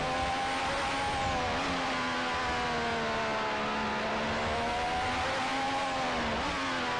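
A Williams FW11B Formula One car's turbocharged engine in Assetto Corsa sings at high revs, loud and sustained, pitch dipping and climbing with gear changes, no voices.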